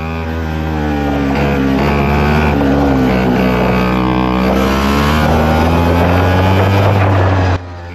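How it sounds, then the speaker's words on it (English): An X30 racing kart engine drones steadily with a continuous buzzing tone that wavers and sputters as the engine cuts out, then stops abruptly near the end. "That's just the kart cutting out."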